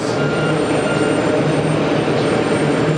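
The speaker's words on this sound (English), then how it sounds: "another Pinnacle 301PQ taking off" Pinnacle jet airliner taking off at JFK airport, a steady, loud broadband engine roar that holds constant throughout with no voices.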